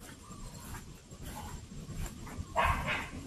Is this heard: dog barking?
yes